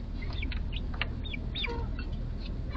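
Hens at a chat-powered chicken feeder give soft clucks and short chirpy calls, scattered irregularly over a steady low background rumble.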